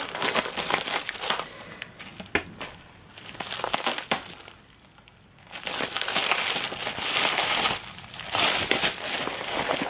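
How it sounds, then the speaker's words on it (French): Bubble wrap being unwrapped and crinkled during a puzzle cube unboxing, with continuous close crackling and crumpling that swells and fades in bursts, with no talk. "Le papier bulle."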